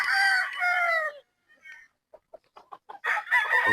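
A stag rooster, a local native-born gamefowl, crows loudly and close by, with a long drawn-out call, a short pause and a few clucks, then a second crow.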